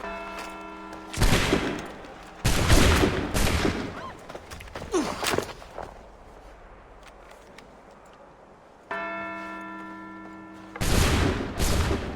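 A musket volley in Assassin's Creed III, heard as several loud, sharp bursts of gunfire separated by pauses, with ringing tonal sounds and ambient battlefield noise in between.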